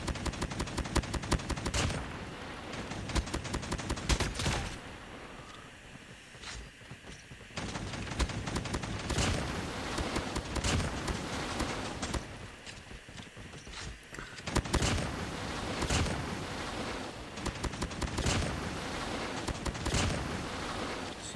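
The PDW-57 submachine gun fires in a video game in rapid, loud bursts of repeated shots, separated by short pauses where the firing stops and only quieter game sounds remain.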